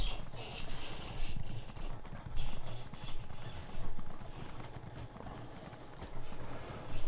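Horse hooves clip-clopping in the video game Elder Scrolls Online, a steady, close, continuous trot of hoofbeats with faint talk underneath.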